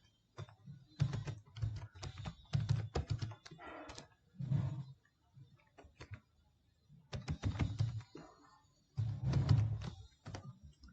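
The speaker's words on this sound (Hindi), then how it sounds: "पहले पूरा प्रोग्राम टाइप कर लेते हैं।" A Java program being typed on a computer keyboard, with bursts of rapid, close, clattery keystrokes and thumping presses separated by short pauses, quiet overall and without talking.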